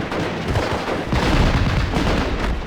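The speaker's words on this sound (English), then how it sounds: "German grenadiers are firing at us." German grenadiers fire on the player's position in the Normandy 1944 strategy game Steel Division, a dense, continuous roar of gunfire and booming blasts with no clear gaps, loud throughout and swelling slightly halfway through.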